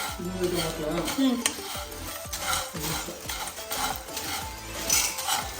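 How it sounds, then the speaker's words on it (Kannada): Whole spices for garam masala roasting in a non-stick pan at home, with repeated scraping and stirring clatter over a soft sizzle; faint tonal sounds sit in the background. "ನಾನ್ ಸ್ಟಿಕ್ಕಲ್ಲೇ ಉರಿತಾ ಇದ್ದೀನಿ ನಾನು"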